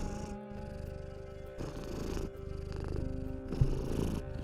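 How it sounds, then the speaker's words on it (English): A pet cat purrs close up, a steady low rumbling in rhythmic breaths that continues throughout, with faint background hum and no speech. "My cat is being a little bit of a goober."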